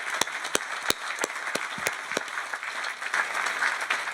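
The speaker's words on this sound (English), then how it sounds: "We ought to give her a round of applause." Audience applause at the Maine Seacoast Mission Sunbeam Award gala: a steady crowd clapping with a few sharp, close individual claps standing out throughout, no talking.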